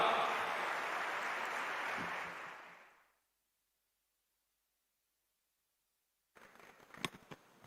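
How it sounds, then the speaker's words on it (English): An audience at a national-level felicitation ceremony applauds loudly to welcome a speaker. The clapping runs steadily for about three seconds, then fades into silence, followed by faint rustling and a few soft knocks. "Please put your hands together and welcome with a big round of applause"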